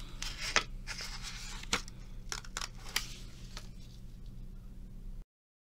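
Scissors snipping through layered paper pieces for a tribal mask, a few sharp crisp cuts clustered early, then fading into quiet rustling, close and fairly soft.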